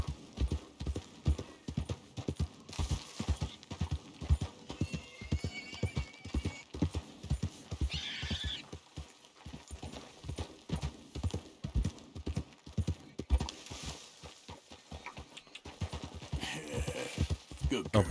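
Horses gallop in Red Dead Redemption 2, with rapid rhythmic hoofbeats pounding through the whole stretch, occasional whinnies, and faint talk underneath.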